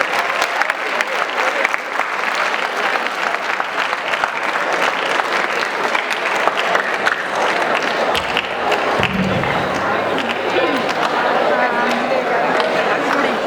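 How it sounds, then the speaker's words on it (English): School audience at a No Tobacco Day and Labour Day programme giving a loud, sustained round of applause, with crowd chatter and voices running underneath throughout. "Please give him a round of applause."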